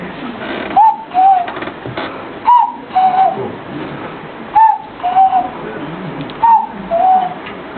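A man imitates a cuckoo, giving four evenly spaced two-note whistled calls, loud and close, before an audience.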